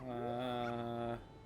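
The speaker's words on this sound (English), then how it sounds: "you can also hear the higher pitch barking" A single short, tonal dog yelp from a dog race in the Nintendo 64 game The Legend of Zelda: Majora's Mask, a rising whine-like bark lasting about a second with no voices.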